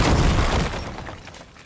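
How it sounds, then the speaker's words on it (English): A statue comes down after an explosion in a video game as a loud, dense crash of rumbling, shattering debris that is strongest at the start and then slowly fades as the clatter thins out. "I guess the statue fell down."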